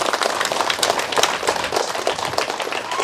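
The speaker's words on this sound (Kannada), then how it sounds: "ನಿಮ್ಮೆಲ್ಲರಿಗೂ ಒಂದು ಜೋರಾದ ಚಪ್ಪಾಳೆ" Loud, dense applause from a large audience at a village anniversary function, steady clapping filling the whole stretch with no voices over it.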